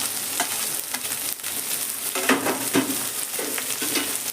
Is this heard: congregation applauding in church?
no